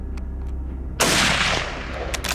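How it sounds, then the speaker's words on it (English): A loud gunshot or burst of gunfire cracks out during a wild boar hunt in wooded valley terrain, a sudden broadband blast that trails into a sustained noisy tail, with fainter sharp reports following. "After the loud gunshots,"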